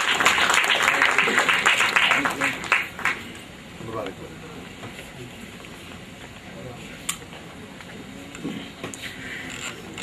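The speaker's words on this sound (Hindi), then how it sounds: "जोरदार तालियां हो जाए" Audience applause at a speech event, strongest at the start and thinning into scattered claps and a busy room murmur, with one sharp clap standing out near the end.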